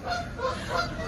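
Geese honk loudly and repeatedly at an outdoor photo shoot during the Stagecoach festival, a close, dense burst of overlapping nasal calls.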